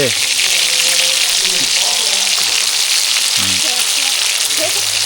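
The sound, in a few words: frying fish in a pan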